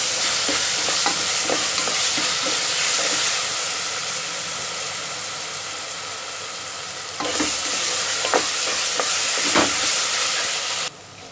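Ginger garlic paste frying with onions in a pan for chicken biryani, a steady close sizzle with intermittent stirring scrapes and a brief louder burst midway, no voices.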